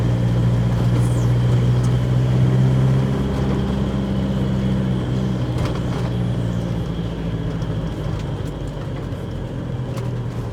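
Toyota Hiace van driving through a ski area: a steady, loud cabin drone of engine and road rumble, with a low hum and faint rattles, continuous from start to end.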